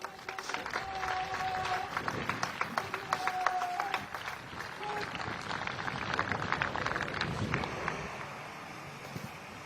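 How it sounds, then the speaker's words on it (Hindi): An outdoor crowd claps for a trained police dog demonstration at the Sardar Patel Jayanti ceremony in Kevadia, a distant, steady applause mixed with wind noise and brief whistle-like tones. "आइए हम इनके इस काम को, इस प्रदर्शन को अपनी तालियों से सराहें।"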